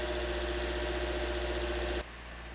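A 2008-2013 Toyota Corolla engine idles with a steady, even hum that cuts off abruptly near the end, leaving a quieter, rougher background.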